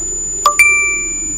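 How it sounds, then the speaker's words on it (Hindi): A mobile phone notification chimes twice in quick succession, a bright electronic ding followed by a second tone that rings on and fades, close and clear against a faint steady hum with no voices. "तभी उसके मोबाइल स्क्रीन पर एक नोटिफिकेशन आया"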